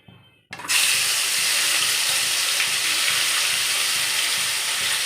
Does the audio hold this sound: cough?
no